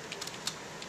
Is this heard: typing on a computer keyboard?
yes